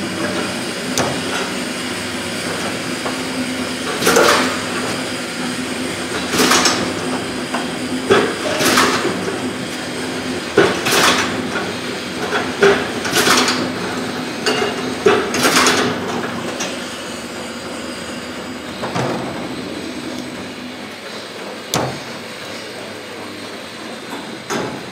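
A capping machine for 32 mm aluminium screw caps with thread rolling runs alongside its conveyor, making a steady mechanical rumble and hum. Repeated loud clanking knocks recur every couple of seconds, with no talking.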